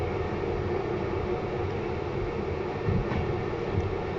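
A freight train hauling coal to the former Lenin Steelworks in Kraków's Nowa Huta district rumbles past as a steady, dense, continuous roar with no clear breaks, close and fairly loud.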